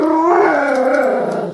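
A dog howls on command, one sustained wavering howl held close and loud for over a second before trailing off, with no talking over it.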